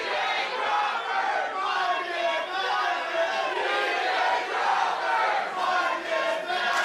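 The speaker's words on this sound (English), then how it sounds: "Folks at home, whose name are you chanting?" A packed crowd at a Blitzkrieg Pro wrestling event chants loudly and steadily, the mass of voices rising and falling in rhythm without pause.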